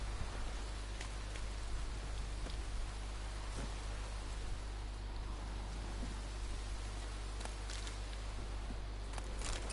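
Steady rain falls in the Witcher 3 game world, a continuous even patter with scattered close droplet ticks under a low rumble, and no one speaks.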